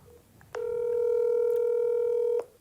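A telephone line tone sounds while a call is placed: one steady, clear electronic beep held for about two seconds, loud and alone, with short clicks at its start and end.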